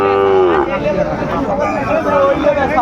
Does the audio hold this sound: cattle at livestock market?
yes